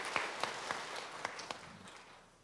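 A church congregation in Gyeongju claps for its choir during a year-end Sunday service: a handful of scattered, distinct claps stand out over a soft, faint patter that tapers away.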